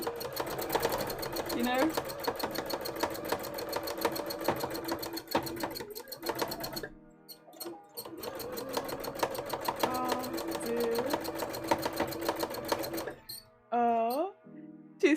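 A sewing machine stitches in rapid rhythmic bursts with pauses, loud and close, while people talk over it and background music plays.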